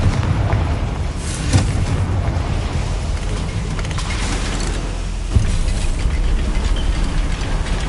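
A Confringo fire spell explodes in the video game Hogwarts Legacy, cast inside a goblin mine: a loud, dense, continuous roar of fire and rumbling blast, with sharper bursts standing out near the start and again later.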